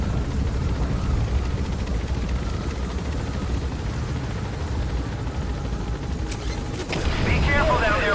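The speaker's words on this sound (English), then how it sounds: "Focus all your fire on that enemy chopper." An enemy helicopter in a Metal Gear video game thrums steadily under dense battle noise, with a sharp burst and rising clatter near the end.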